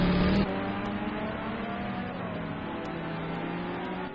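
A Corvette GT1 race car engine hums in a sim racing game, starting with a brief louder burst and then holding a steady, mid-level engine drone with slight pitch shifts, no talk.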